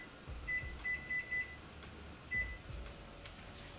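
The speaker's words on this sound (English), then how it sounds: "So I'm going to set my timer." Kitchen timer being set while preparing hassle-back sweet potatoes, a series of quick high electronic beeps in two short bursts, clear over a faint room hiss with no talking.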